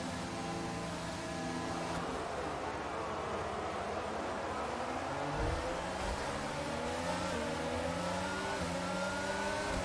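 Race cars in the F1 22 video game accelerating off the grid at an online race start: a thick, continuous drone of many revving engines, pitch rising and sweeping as the field pulls away, loud and unbroken throughout.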